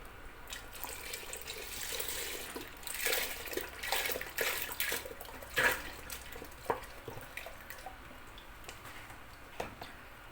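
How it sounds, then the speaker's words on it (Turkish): Milk poured into cooked rice in a pot for Turkish rice pudding, a soft continuous pouring and splashing with faint clinks, quiet and close. "Şimdi sütlerini ilave yapacağım."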